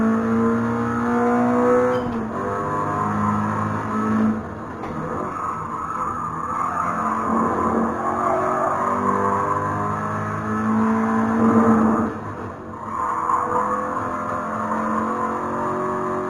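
A Toyota GR86 in a racing video game, its engine droning and revving steadily through gear changes while the tires squeal and skid through corners, loud and close throughout, with a gearbox fault making it act up.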